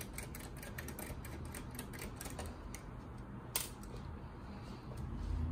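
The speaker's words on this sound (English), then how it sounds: "Now you can put this screw back." Small screw driven back into an Asus G620AJ laptop chassis during reassembly, a quick run of light ticking, clicking metallic taps close by, with one sharper click midway and no talking.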